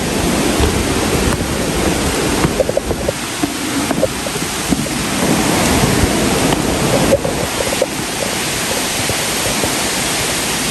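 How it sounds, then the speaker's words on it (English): The Burude waterfall in Sirsi, Uttara Kannada, Karnataka, rushes in a loud, continuous broadband roar close by, with some wind buffeting on the microphone. "You can hear the sound of the water."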